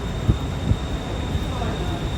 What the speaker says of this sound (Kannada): ನೋಡಿ ಅಲ್ಲಿ ಹೋಗ್ತಾ ಇದೆ ಮೆಟ್ರೋ.